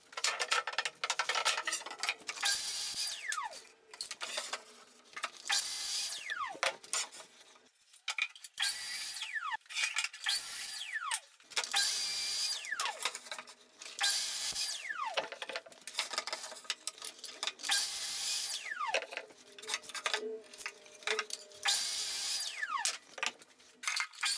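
Wooden workbench parts being cut to size with a power saw, repeated whining cuts and tool noise in uneven bursts with brief pauses, fairly close and continuous over the whole stretch.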